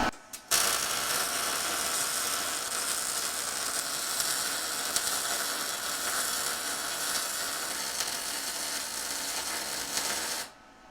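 A Titanium Vulcan MIG welder laying a bead on a steel lap joint, a loud continuous crackling buzz that runs nearly eleven seconds before cutting off, with no talking.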